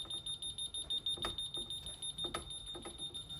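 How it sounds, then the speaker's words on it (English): Faint house alarm going off inside a house, a high steady electronic tone droning continuously with some pulsing underneath and a few soft knocks nearby, no voices. "We walked in and the alarm's going off"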